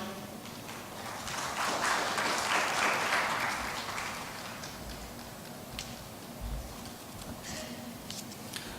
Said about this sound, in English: A round of applause for our speaker here